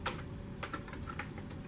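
Keys tapped on a computer keyboard while running a DOS virus program, a few irregular quiet clicks over a constant low hum.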